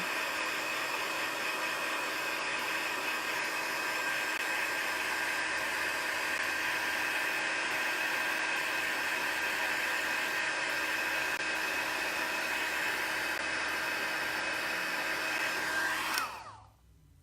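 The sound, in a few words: heat gun used for heat embossing a card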